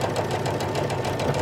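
A sewing machine runs steadily while stitching through quilt fabric for a jelly roll star burst quilt, a continuous mechanical whir with a rapid needle rhythm, close and alone.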